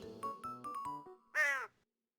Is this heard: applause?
no